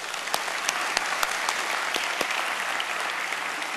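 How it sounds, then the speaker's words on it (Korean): A church congregation applauds after a choir and orchestra performance, a steady, moderately loud patter of many hands with a few sharper individual claps standing out. "박수 한번 하겠습니다"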